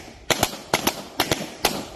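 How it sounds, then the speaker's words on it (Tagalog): Gunshots fired at a marksmanship range, with four sharp reports arriving in quick, evenly spaced bursts, each crack closely followed by a second echo-like snap, loud and close with no talk. "putok."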